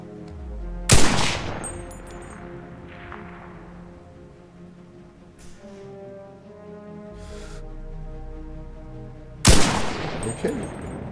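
Two loud rifle shots at a firing range in the video game Enlisted, several seconds apart, each a sharp crack followed by a ringing echo and tail, with quieter mechanical handling sounds between them.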